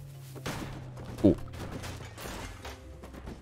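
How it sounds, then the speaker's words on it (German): Explosions in Goat Simulator come as a few short, sharp bursts over a busy game background, while a voice speaks briefly at the same time. "Explosionen."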